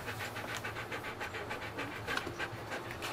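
A dog pants in rapid, steady rhythm inside a camper van on a 38-degree day, the breaths close and moderately loud with no talking over them.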